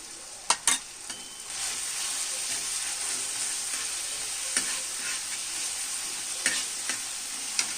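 Curry leaves dropped into hot oil in a pan with tomato and browned onion for baingan bharta, a steady close sizzle with a few sharp crackles and soft stirring scrapes.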